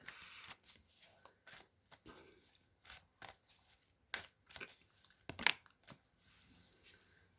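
Tarot cards are shuffled in quick, crisp riffles and slaps, a close series of papery bursts with brief gaps between them, faint voice traces.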